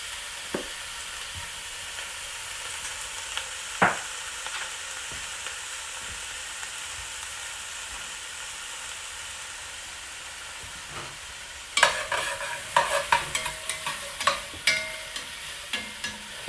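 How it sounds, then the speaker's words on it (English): Vegetables seasoned with Jamaican jerk spice fry in a pan with a low, steady sizzle. Occasional utensil knocks come early, then a burst of frequent stirring scrapes and clacks toward the end. "we're going to cook for about 5 minutes while constantly stirring"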